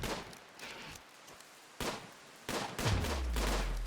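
Defensive turrets in RimWorld firing on attacking metroids around a colony, bursts of rapid gunfire in separate clusters, with a louder sustained volley near the end.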